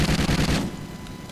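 Automatic weapon gunfire in the multiplayer shooter Call of Duty: Ghosts, a loud dense burst of rapid shots for about half a second, then fading into quieter game ambience.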